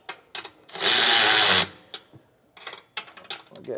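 A power tool snugs down the U-bolt nuts on a Roadmaster Comfort Ride leaf spring suspension kit being installed on a 2021 Keystone trailer, giving one loud close whirring burst of about a second, followed by scattered clanks and handling noises.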